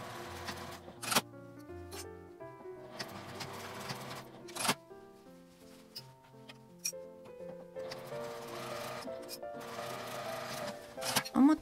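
A home sewing machine stitches a small two-fold fabric wallet from end to end in short rhythmic runs of mechanical clatter, with light ticks and clicks between the bursts.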